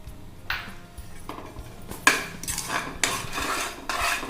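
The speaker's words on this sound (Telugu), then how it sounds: "ఒకసారి బాగా మిక్స్ చేసుకోవాలి" Ravva Kesari, a semolina sweet with fried dry fruits, being stirred in a pan with a metal spoon, giving repeated scraping strokes and clinks, several close, moderately loud sweeps in an uneven rhythm.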